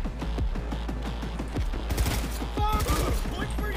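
Rapid bursts of automatic gunfire from a gun in the Cyberpunk video game, loud, close and rhythmic, with mechanical clatter between the volleys and a denser barrage toward the end.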